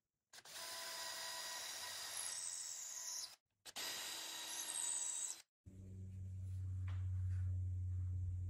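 A power drill boring a quarter-inch hole about 1.5 inches deep into the end of a wooden Murphy wall bed part: two sustained whirring bursts with a short pause between, then a lower steady motor hum.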